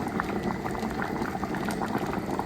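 Ghanaian corn porridge (oblayoo) bubbling as it boils in a pot, a steady close-up simmer of dense popping and gurgling that runs without a break and with no talking over it.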